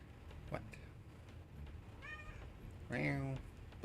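A domestic cat gives a short meow and then a louder, drawn-out one, close by, over a low background hum with a few faint clicks.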